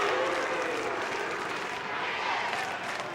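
A football crowd at an Australian rules match between Kangaroos and Port Adelaide applauds and cheers the umpire, a broad, sustained wash of clapping and crowd noise from a distance with no voice standing out.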